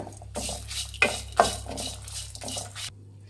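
Mango puliyogare ingredients with curry leaves and dry coconut being mixed in a pan after the stove is switched off, a few scraping and clinking strokes of a spoon against the pan over a low steady hum.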